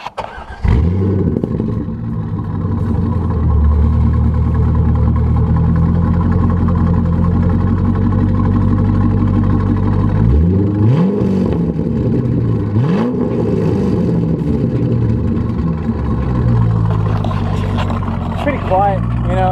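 A C5 Corvette's V8 engine starts and then idles with a loud, steady rumble, revving up sharply several times in the middle of the stretch; people talk over the engine throughout.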